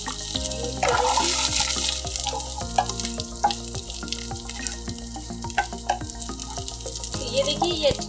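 Crushed ginger, garlic and green chilli sizzle steadily in a hot pan for dhaba-style paneer bhurji, with occasional clinks of a spoon against the pan.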